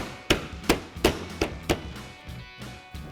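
A new OE-style headlight is tapped into place on a 2016-2018 Chevrolet Silverado 1500. Five sharp, evenly spaced knocks land close by, followed by a couple of softer taps.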